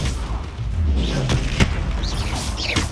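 A Confringo fire explosion spell in Hogwarts Legacy goes off as a sharp booming burst amid busy, dense spell-combat noise, with a low rumble and a brief bright crack standing out near the middle.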